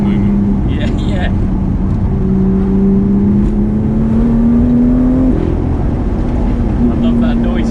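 A modified BMW M2 engine drones loudly and continuously as its pitch climbs gradually, with voices partly audible over the engine noise.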